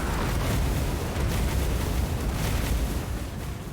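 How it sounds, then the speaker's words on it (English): Fireball Barrage spell from Warhammer 2: Total War, Rise of Dragons campaign, a sustained roar of overlapping fiery explosions and booms, loud and continuous with no pauses. "And a whole barrage of fireballs."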